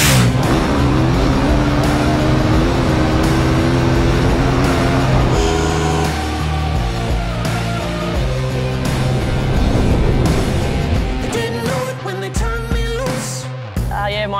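Toby Price's motorbike runs over Outback trails and open highways, its engine droning loudly and continuously, with gear changes, revving and rising pitch sweeps toward the end.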